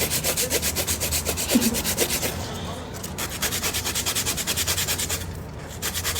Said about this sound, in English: I'm using 80/80 grit file.